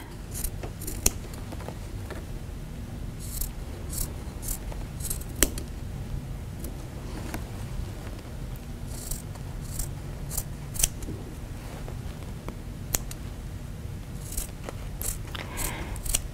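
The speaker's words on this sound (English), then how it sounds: "I'm going to just take my scissors and I'm going to just cut approximately 1/4 inch behind" Repeated crisp snipping of scissors cutting through quilting fabric, with steady rhythmic cuts close by and a low background hum.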